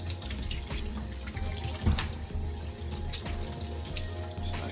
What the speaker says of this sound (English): Continue the same process until you finish washing off your ginger.